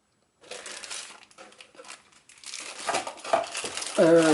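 Sheet of scrapbooking paper handled by hand, giving soft crinkling and rustling that rises toward the end, with a brief tone near the close and no talk.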